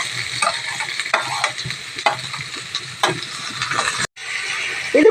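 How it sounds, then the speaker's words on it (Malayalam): Mustard seeds, garlic, onion, tomato and curry leaves fry in oil for an egg curry, loud sizzling broken by repeated spatula scrapes and stirs at close range, with a brief gap near the end. "നമുക്ക് വെളുത്തുള്ളി ഇട്ട് കൊടുക്കാം, സവാള ഇട്ട് കൊടുക്കാം, തക്കാളിയും കറിവേപ്പില ഇട്ട് കൊടുക്കാം."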